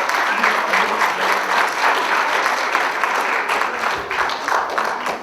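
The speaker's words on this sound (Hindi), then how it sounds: "बहुत जोरदार तालियों से इनका स्वागत कीजिए।" A large audience at a staged stage event applauds steadily, a dense, loud wash of clapping that fades slightly toward the end.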